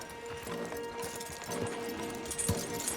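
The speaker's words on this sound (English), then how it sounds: "Javier, you're gonna lead the stallions." Horse hooves clip-clopping steadily as riders lead stallions on horseback in Red Dead Redemption 2, with an occasional faint whinny and game ambience underneath, the hoofbeats close and continuous.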